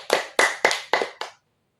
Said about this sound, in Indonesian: Berikan tepukan yang semangat untuk kelompok 1.